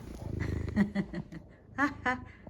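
An orange cat purring indoors during a cold, snowy winter, a soft low rumbling pulse running steadily beneath a woman's speech.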